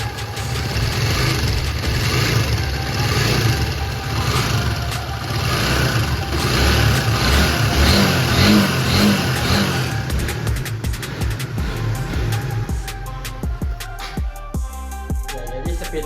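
A Honda GTR 150 motorcycle with the K56 engine, freshly serviced with a new camshaft, idles smoothly and then is revved repeatedly, giving a close, loud, steady engine drone that rises and falls with the throttle.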